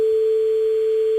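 A steady single-pitch telephone line tone at the start of a prank call, loud and unbroken for just over a second with nothing else audible.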